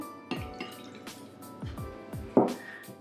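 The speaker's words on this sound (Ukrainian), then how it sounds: "Беру 100 мг води" About 100 ml of water pours into a bowl to make gelatin in a home kitchen. It comes as a quick series of close, irregular splashes and drips, with one louder splash near the end.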